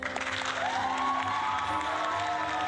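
Canned applause and cheering fired from a soundboard, a steady wash of clapping lasting a few seconds, with a tonal hum running underneath.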